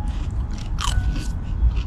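A cheap, salty supermarket potato chip is bitten and chewed up close, giving a few crisp crunches over a soft, steady background hum.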